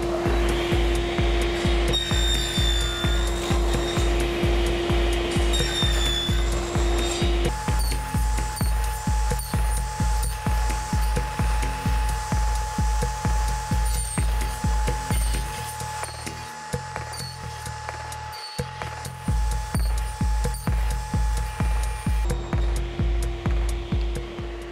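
A router guided by a box joint jig cuts a row of joints into two clamped box sides, a steady whining motor with rhythmic repeated bursts of cutting, close and fairly loud, with a brief change in tone midway.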